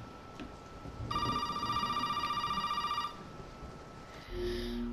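A telephone rings inside the horror video game Resident Evil 7, a steady trilling electronic ring lasting about two seconds, followed by a separate brief beeping tone; no one speaks over it.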